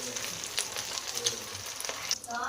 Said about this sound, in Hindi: तो इसको हमने हल्की आंच पे इस तरह से फ्राई कर लेना है।